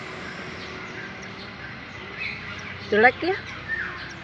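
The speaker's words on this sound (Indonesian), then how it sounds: "ini namanya burung belibis guys" A belibis, or whistling duck, in an aviary gives a few short, bright calls late on, fairly close but brief, over a quiet background with a person speaking briefly.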